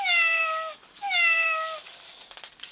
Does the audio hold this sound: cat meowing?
yes